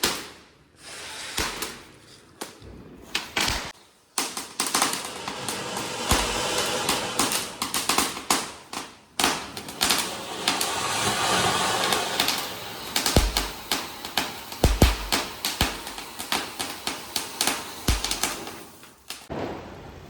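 A string of saravedi firecrackers bursts during Diwali, a long dense rattle of sharp cracks with brief pauses between runs, loud and close with no talking.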